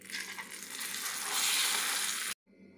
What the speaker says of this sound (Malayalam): കറിയിലേക്ക് ഞാൻ കടുക് വറുത്തിടുന്നു.